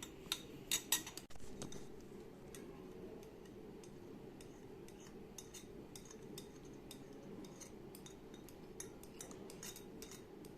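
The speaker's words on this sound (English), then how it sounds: "I'll mix it until we get a thickened liquid" Aloe vera gel is stirred into a liquid solution for a pet paw shampoo, giving faint, close ticking and scraping clicks from a utensil against a container over a low steady background.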